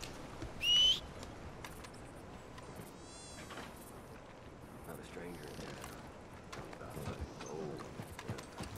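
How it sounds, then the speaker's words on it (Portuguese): Horse hooves clip-clop steadily in Red Dead Redemption 2, mixed with buzzing insect ambience in the game world, with a brief bright chirp near the start. "Tá chamando o cavalo, vou chamar o meu também"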